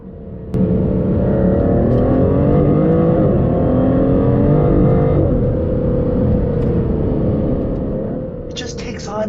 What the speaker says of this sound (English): It just takes on this slightly tinny and a little bit fake sounding engine note from inside